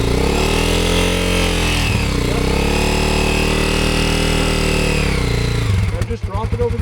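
A loud off-road adventure motorcycle engine chugs steadily at low revs near the microphone, with deep harmonic throbbing that briefly dips, then shifts into rougher sputtering at the end as the bike works over an obstacle; a voice speaks over it.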